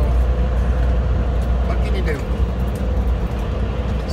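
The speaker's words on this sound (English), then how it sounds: "I'm driving back home empty from Flemington." An empty truck travels home on a highway, giving a loud, steady low engine and road rumble throughout.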